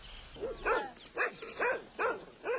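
Maremma herding dogs, an Italian breed guarding a flock of cashmere goats against a coyote, bark in a steady series of about six loud, evenly spaced barks with no talk over them.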